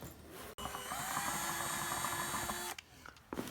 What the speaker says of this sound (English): Drill 2 holes in a plastic barrel.